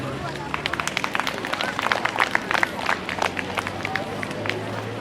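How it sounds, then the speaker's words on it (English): An audience at a festival and kit launch applauds the tournament media team, a dense, continuous patter of many hands clapping with crowd murmur mixed in. "Can you give them a round of applause?"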